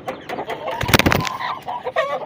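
A hen held in someone's hands clucks and squawks in agitated bursts, loudest near the middle, with rustling and handling noise around it.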